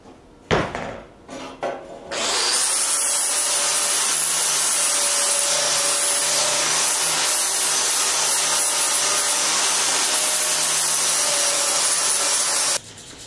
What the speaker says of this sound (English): So I added a lot of extra weld just so I could grind that down.